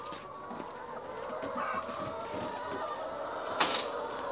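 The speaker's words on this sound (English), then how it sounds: "Look at all those chickens." Chickens cluck steadily in a busy flock, overlapping calls close by with a brief louder squawk near the end.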